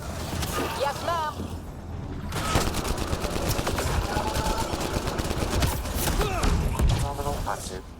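Steady gunfire in a video game hangar battle, continuous dense rattling shots under game voices and radio chatter, with beeps and mechanical noise throughout.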